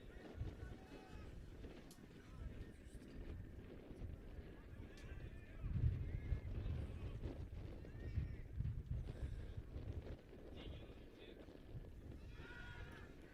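Strong gusting wind buffets an outdoor microphone at Leonard Cole Field during a night soccer match, a steady low rumble that swells louder in the middle before easing, with faint voices underneath.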